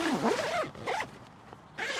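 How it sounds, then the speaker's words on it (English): Zip of a tent's inner layer on a Starav 200 during a winter woodland camp, a few long rasping pulls close by, with brief pauses between strokes. "just zip up the inner"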